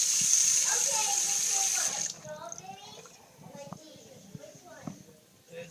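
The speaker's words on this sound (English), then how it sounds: "so I'm going to turn the sink water off." Tap water runs into a sink with a steady bright hiss at a leaking drain, then cuts off abruptly about two seconds in, leaving trickles and someone talking.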